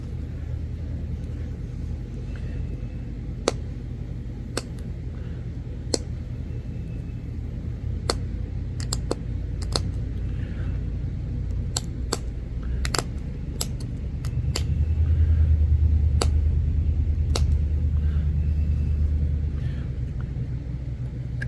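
Steady low rumble of road traffic as people drive to and from a swim beach, passing cars swelling louder midway, with scattered sharp clicks and taps over the continuous drone.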